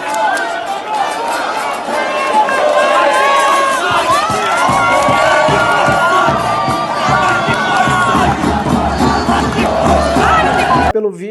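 Nacional Futebol Clube supporters cheer and shout in a dense, loud stadium roar that swells and holds steady, with chanting and many overlapping voices close by.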